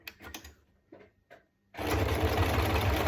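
A sewing machine starts up and runs steadily at speed while quilting a fabric pot holder, loud and close, after a few quiet handling taps and clicks.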